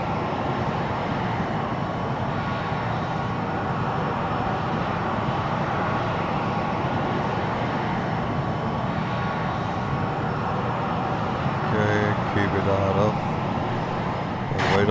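Steady roar of an AV-8B Harrier jet engine in X-Plane 11 at Edwards Air Force Base, a constant loud broadband rumble, with a voice talking over it toward the end.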